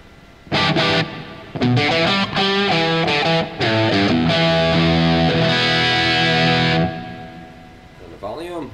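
An electric guitar plays a series of sustained, distorted chords and notes through a Suhr Badger 35 MKII amp head, each ringing out with a washy reverb tail; a brief voice follows.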